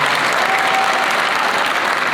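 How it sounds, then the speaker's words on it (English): Crowd applause fills the hall at the 2024 Bridgeport fire academy graduation ceremony. It is a thick, even wash of clapping that stays loud and unbroken throughout, without distinct individual claps standing out. "Y'all can clap for that."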